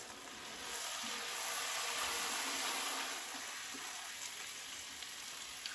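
Onions with demerara cane sugar caramelizing in a pan for a vegan French onion soup, giving a steady, close sizzle and frying hiss that swells slightly then holds even throughout, with no talk.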